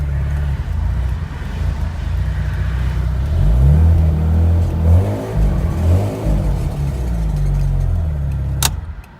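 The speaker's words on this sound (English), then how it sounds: "I'll show you guys a clip of how the engine sounded when it broke" A Bridgeport-ported rotary engine in a Mazda RX-8 failing on the autobahn, roaring loudly through uneven revving surges with a rough, grinding quality, close and without talk, ending in a sharp knock.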